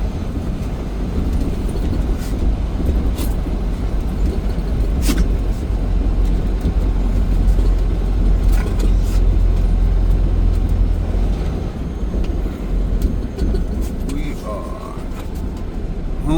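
A truck pulls up and backs up on a gravel spot among lingering ice, a steady low engine rumble filling the whole stretch with faint crunching and rattles over it, no voices.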